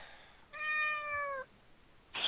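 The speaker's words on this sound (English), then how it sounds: "You hear a cat in the distance." A cat gives one drawn-out, tonal meow lasting about a second. It is fairly soft and stands alone against quiet background hiss, followed by a brief noisy rustle.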